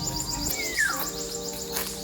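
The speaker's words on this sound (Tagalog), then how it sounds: "Yung mga ano, yung mga huni ng mga ibon, ganda." Birds sing in a garden beside a large balete tree in Maria, Aurora, with a clear rising-then-falling whistled call and scattered chirps over steady outdoor background noise.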